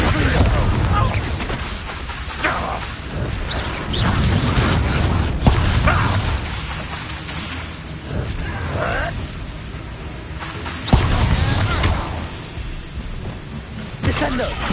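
Bombarda spell explosions in a Harry Potter video game, repeated booming blasts with whooshes scattered through a loud combat mix while a voice shouts spell names.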